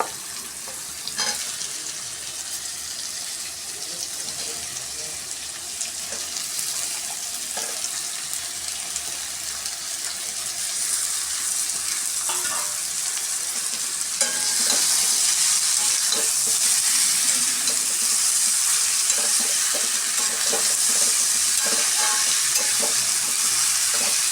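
Ivy gourd sautéing with asafoetida in a pan, a loud continuous hiss of frying that grows stronger partway through, with occasional soft stirring scrapes and no voices.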